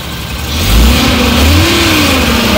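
A Suzuki pickup engine runs just after starting, a steady close idle that swells into a rev about midway and then settles back into a loud, continuous drone.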